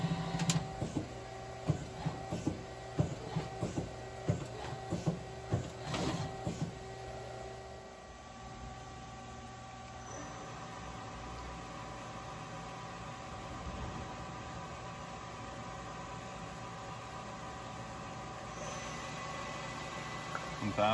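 Miyano LZ-01R turning center homing its axes: a rapid series of rhythmic mechanical clicks and servo whirs for several seconds, then a steady machine hum with a sharp tone continuing alone.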